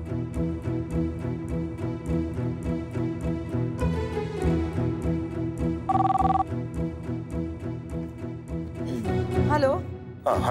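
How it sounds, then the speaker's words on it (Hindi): A telephone rings in repeated bursts while people talk over it nearby; a higher electronic tone briefly cuts in partway through. "भैया घंटी जा रही है।"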